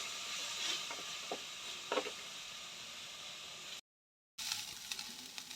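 Fresh mint leaves frying in oil in a pan for a green chili chutney give off a soft, steady sizzle with a few faint stirring clicks and a short silent gap near the end.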